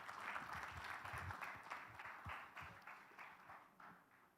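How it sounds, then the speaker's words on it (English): A panel audience at an event on electric vehicles for last-mile delivery gives a faint, steady round of applause that slowly fades toward the end. "A big round of applause for them,"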